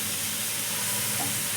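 Grated carrot frying in a pan for carrot halwa gives a steady, close hiss and sizzle with no pauses over the short stretch.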